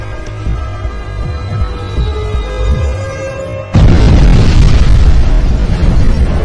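After a tense humming background, a sudden loud bomb blast erupts and leaves a broad, roaring rumble that carries on to the end.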